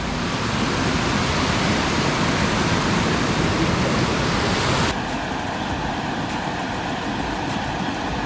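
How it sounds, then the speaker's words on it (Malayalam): Water pouring down into a deep stream gorge near Anchuruli tunnel, a dense, continuous roar close by that drops slightly in level partway through. "ആ വെള്ളം വീണുണ്ട് പാല് പോലെ അങ്ങ് ആവുകയാണെങ്കിൽ"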